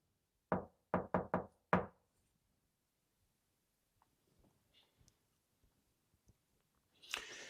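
Four quick, sharp knocks on a door in a hotel hallway come in rapid succession, then quiet with faint scattered ticks and a brief burst of noise at the end.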